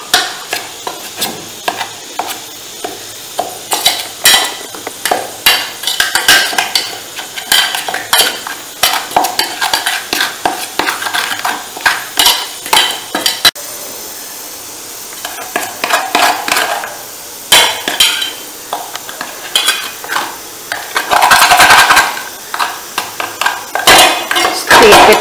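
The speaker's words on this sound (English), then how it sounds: "So while it's still hot, let us mix in the sugar so that it melts." Hot steamed rava mixed with sugar in a metal vessel, with dense, rapid spoon scraping and clanking that continues for a long stretch, loud and close, broken by brief pauses, with no speech.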